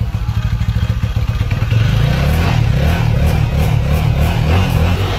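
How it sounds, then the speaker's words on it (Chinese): A motorcycle with a hard-starting fault, one that smokes white from the exhaust, sputters through uneven engine pulses before catching into a loud, steady idle up close. "这部车放一小时或者半小时都很难启动，启动的时候排气管还冒白烟"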